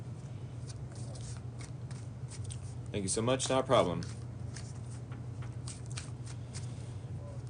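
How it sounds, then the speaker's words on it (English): A deck of tarot cards is riffled and shuffled by hand in a brief close burst of crisp rustling. A quiet hum sits underneath, and a couple of people trade short remarks. "I'm going to shuffle these cards back into the deck"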